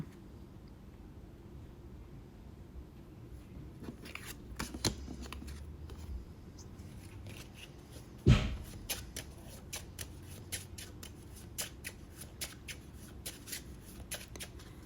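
Tarot cards are shuffled up close in repeated crisp riffles and flicks, with one sharper snap partway through, in an otherwise quiet room without speech.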